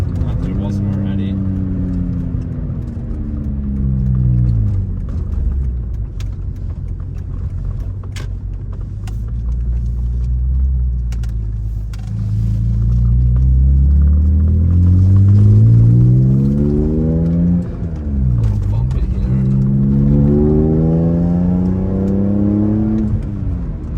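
BMW E46 M3 Cabriolet with the S54 engine accelerating, loud close revs climbing repeatedly through the gears with drops at each shift, under steady road rumble and wind.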